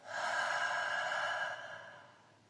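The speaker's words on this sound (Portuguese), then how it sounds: "Eu puxo o ar pelo nariz" One long, steady inhalation through the nose, close and breathy, fading gently toward the end with no talking.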